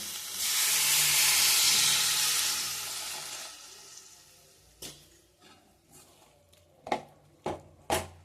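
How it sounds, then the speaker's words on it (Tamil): Water is poured into a hot pan of cauliflower masala gravy spiced with chili powder and chicken masala, setting off a loud hissing sizzle that fades over a few seconds, followed by scattered sharp utensil clinks. "இப்போ இதில் வந்து வாட்டர் ஆட் பண்ணிக்கலாம்."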